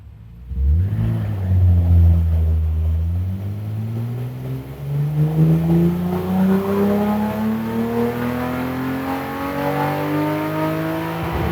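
A BMW E30 engine on a dyno sweeps smoothly upward through a ramp pull, starting from a low drone and climbing steadily into a loud, strained rev that holds near the top for several seconds.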